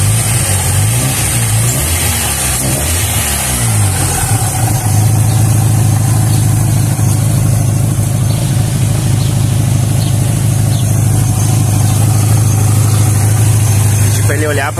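A German Volkswagen Passat engine runs steadily after its idle was adjusted in a workshop, a loud continuous hum that is a little uneven at first and then settles into an even idle throughout.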